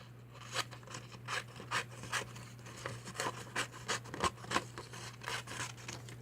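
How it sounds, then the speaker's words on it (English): Steady, rhythmic crunching snips of scissors cutting paper around a pumpkin card, about two cuts per second, close and fairly soft over a low mains hum. "So I like to cut off the edge as close to the pumpkin as possible."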